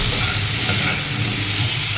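Spice paste sizzles loudly in a hot pan as it is sautéed on a home stove, with a steady, close frying hiss and faint stirring throughout.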